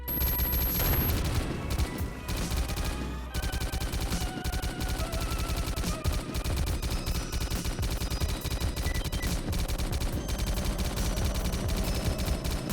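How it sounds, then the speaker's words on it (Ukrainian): Rapid gunfire in the shooter game S.T.A.L.K.E.R. Lost Alpha, loud dense bursts of automatic shots that run almost nonstop, with a brief lull early on before firing resumes. "Я просто нажимаю стріляти."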